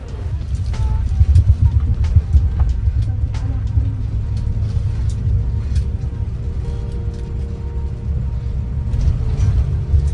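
Damri Imperial Suite coach bus on the move, a steady low engine and road rumble filling the cabin throughout with faint clicks and rattles, while soft voices murmur underneath.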